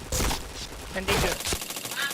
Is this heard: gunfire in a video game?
yes